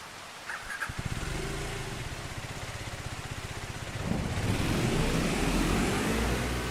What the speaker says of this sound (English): That doesn't sound like a diesel engine.